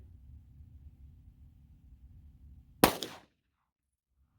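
A single sharp pistol shot of 9mm Speer Gold Dot 124 grain +P ammunition cracks out close and loud. A short echoing tail follows, and a low idling hum sits underneath beforehand.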